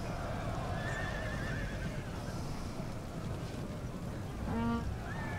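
A horse whinnies in the Total War Attila strategy game, a short high neigh rising out of a steady bed of battle ambience near the end, with faint hoof clatter and no talk.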